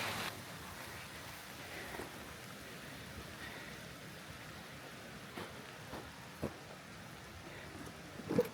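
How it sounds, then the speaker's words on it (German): Rain falls steadily outdoors in Sweden, a soft even hiss with occasional louder drops and patters tapping nearby surfaces. "Der Regen hat eingesetzt."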